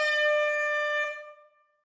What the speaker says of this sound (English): get my air horn